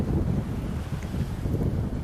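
Strong wind buffets the microphone on a beach at Vama Veche, a steady loud roar with surf-like rumble throughout and no voices.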